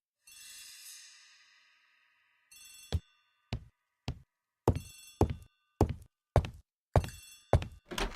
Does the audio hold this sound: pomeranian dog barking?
no